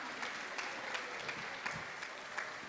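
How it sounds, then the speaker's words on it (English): A temple congregation at a Sunday feast applauds the cooks, a faint, steady wash of clapping from a crowd heard at a distance. "Can you please give a round of applause to them?"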